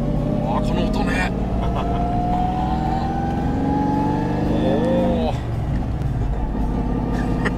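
A Toyota Century's V12 engine, swapped to a five-speed manual, pulls and revs steadily from inside the cabin while driving, its tone climbing and then dropping as the gear changes, loud under people talking.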